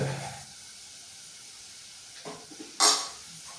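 Spoon scraping and clinking in a pan of hot fried spices for Kerala-style mango pickle, with a soft sizzle, a few light stirring knocks and one sharper scrape near the end.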